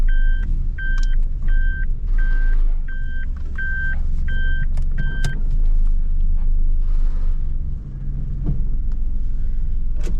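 A car fitted with new coilovers drives along with a constant low road rumble, while a series of short electronic beeps repeats through the first half and no one speaks.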